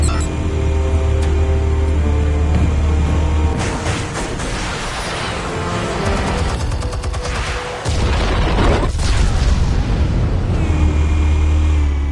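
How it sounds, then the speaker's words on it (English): Explosion in the Batman Telltale video game, a loud sustained burst of booming, crackling blasts and rumbling debris over a steady low hum, with a second surge of blasts near the end. "Explosives armed. Fire when ready."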